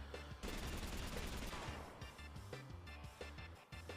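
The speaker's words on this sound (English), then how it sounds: "Your machine gun attack is pitiful." Rapid machine gun fire from Final Fantasy VIII clatters in dense, continuous bursts with sharp repeated shots, loud and close, broken by a few brief pauses and heavy impacts.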